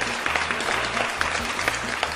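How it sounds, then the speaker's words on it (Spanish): Studio audience applause on a Spanish-language late-night talk show, dense steady clapping from a crowd filling the whole span, loud and close. "un aplauso producción"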